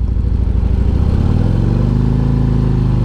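A 2023 Harley-Davidson CVO Road Glide motorcycle engine idles with a rapid chugging pulse, then revs up, its pitch climbing steadily; loud and close throughout.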